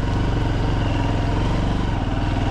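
Motocross motorcycle engine labouring hard on an off-road ride, a loud, close, rough pulsing roar that holds steady and unbroken with no talking.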